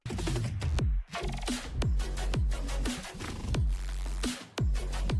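Upbeat electronic music from the game Wuthering Waves with a punchy, steady beat and bright synth layers, playing alone without any voices, with a brief drop near the start.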